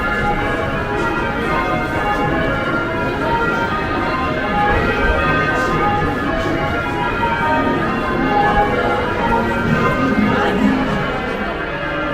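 Church bells ring at York Minster, a cathedral in the city of York, England, a dense continuous peal of overlapping tones that stays loud throughout, with crowd murmur blended in.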